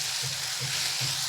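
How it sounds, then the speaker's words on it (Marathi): Chopped onion frying in a pan until reddish, giving a steady, soft sizzling hiss throughout with faint low pulses from the stove. "कांदा चांगला भाजून घेऊया, करपवायचा नाही, लालसर होईपर्यंत आपल्याला भाजून घ्यायचा आहे तो"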